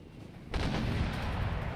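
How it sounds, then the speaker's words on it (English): Wall cannons fire from fortifications in an Empire: Total War siege battle for Vienna, a sudden heavy boom after a quiet moment, then a sustained rumbling roar of artillery and gunfire rolling on loudly. "they've had some success against this artillery unit with their wall cannons"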